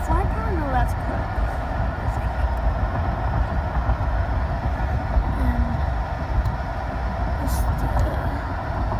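Steady low rumble of a freight train idling at a rail yard fuel pump nearby, with a faint squeal or two and a short high hiss, continuous throughout.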